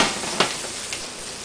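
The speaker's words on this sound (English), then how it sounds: "roll them in the pan and get everything nice and brown and get them coated" Potatoes sizzle in a pan as they are rolled and browned, a steady frying hiss with a couple of brief scraping stirs, fairly quiet and close.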